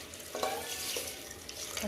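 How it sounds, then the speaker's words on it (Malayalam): Water poured into a cooking pot of green gram and papaya along with salt, a short, steady splashing stream lasting under two seconds, close by and moderately quiet, with no talking. "കുറച്ച് വെള്ളം ഒഴിക്കും."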